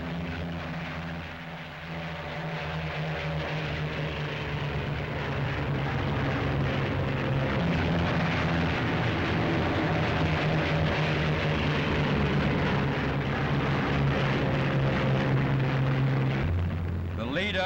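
A pair of WWII P-47 Thunderbolt fighter planes taking off, their radial propeller engines building to a loud, sustained droning roar, with a narrator speaking over it.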